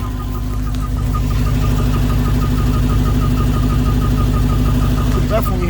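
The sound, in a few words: chirping noise from Dodge Charger Redeye engine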